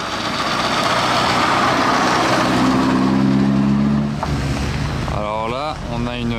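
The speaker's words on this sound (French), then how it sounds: "On a une Ferrari 275 GTB qui fait son entrée." A classic Ferrari 275 GTB arriving at a supercar and vintage car rally, its engine a loud, close, sustained rumble that eases off partway, then gives way to idling and crowd noise, with people talking near the end.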